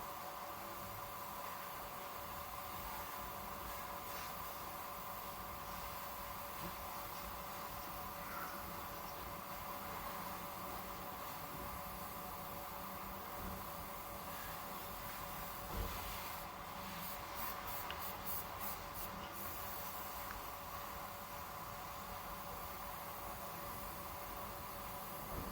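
A spray gun paints the fender of a Tata Nano car, giving a steady, even hiss that runs continuously for the whole stretch at moderate level with no voices.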